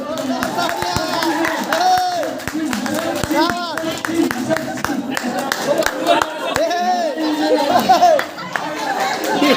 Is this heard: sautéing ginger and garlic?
no